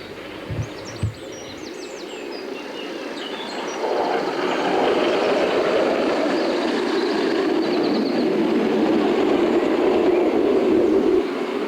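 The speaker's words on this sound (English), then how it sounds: "Len Gillett passes on his Southern Q1 class locomotive" A 5-inch gauge model Southern Q1 class steam locomotive runs past at a model engineering rally, a steady rolling rumble that builds and holds, with birds chirping faintly early on.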